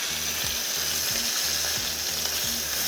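Steak searing in bacon fat in a hot pan: a loud, steady, close sizzle that holds evenly throughout, with no voices.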